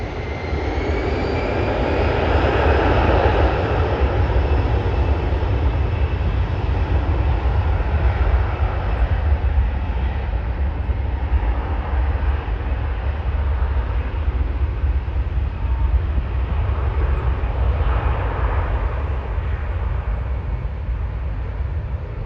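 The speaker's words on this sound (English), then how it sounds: "Up next, Air Canada Rouge, Airbus A319 going to Bermuda." An Air Canada Rouge Airbus A319 bound for Bermuda roars steadily at Toronto airport, its engines a loud, sustained jet rumble with a broad whine that holds for over twenty seconds without talk.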